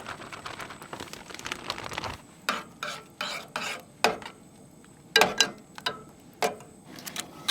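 A spoon scrapes and stirs oats with pepper and cooked meat in a small pot while camping in a tiny truck in freezing cold, giving repeated rasping strokes in an uneven rhythm, close and fairly quiet.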